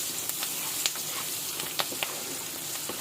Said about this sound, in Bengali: দিয়ে হালকা নাড়াচাড়া করে নেব যাতে পেঁয়াজটা নরম হয়।